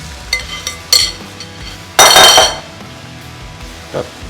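A metal spatula scrapes eggs across a Blackstone griddle beside sausage and hash browns, loud close rasps with a long strong scrape in the middle and a few lighter clinks around it, no talking.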